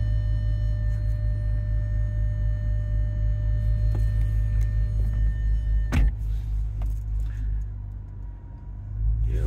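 A 2008 Audi RS4 with a six-speed manual and JHM exhaust and intake idles steadily close by, a deep even rumble with a faint steady whine; around the middle a sharp click sounds, and near the end the engine note dips briefly.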